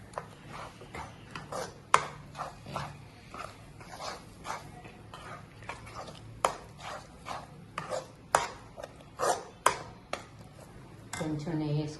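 A spoon scrapes and taps rhythmically against a pan while stirring a milk and roasted gram mixture over low heat, with repeated soft clacks under quiet talk.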